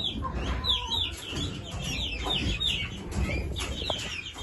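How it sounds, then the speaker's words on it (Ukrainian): Young chickens cluck and chirp continuously, several birds calling over one another at close range, with a low rumbling background. "як підросли наші курчата, ви бачите?"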